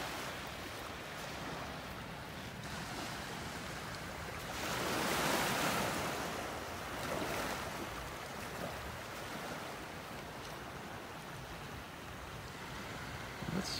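Ocean waves wash onto a beach in North Naples, Florida, a continuous broadband surf hiss that swells into a louder breaking wave midway, with wind noise throughout.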